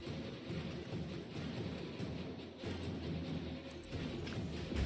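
Thunder rolls low and steady under a constant wash of rain in the video game Satisfactory, a dense, continuous storm bed with no talking.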